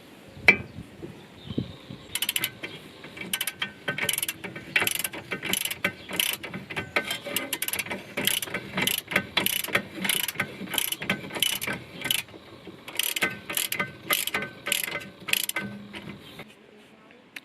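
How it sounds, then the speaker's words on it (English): A ratchet wrench clicks in quick repeated bursts while a tie rod bolt on a Mini R50/R52/R53 is tightened, close and fairly loud, with short pauses between runs of turns. "put your bolt back on top. And tighten that down."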